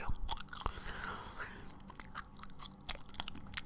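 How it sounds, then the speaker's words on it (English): Gum is chewed close to the microphone in an ASMR recording, with soft wet smacks and crisp clicks in an irregular rhythm, a few quiet vocal sounds between chews. "Gum Chewing"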